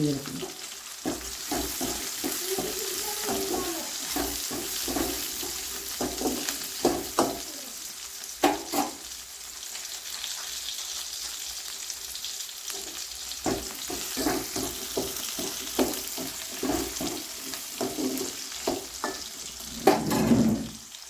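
Ingredients sautéed in a pan for a Kongu-style potato curry, with cinnamon, cloves and fennel, a continuous close sizzle and frying hiss broken by frequent spoon-stirring knocks and scrapes.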